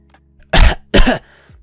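Two harsh, forceful coughs in quick succession, close and loud, with faint breathing around them.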